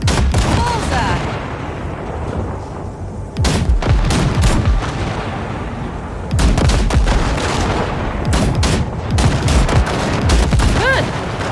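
Bursts of gunfire blasting wrecks in Cyberpunk 2077, heavy rapid shots and booming impacts in several loud clusters, close and dense, with in-game voices briefly underneath.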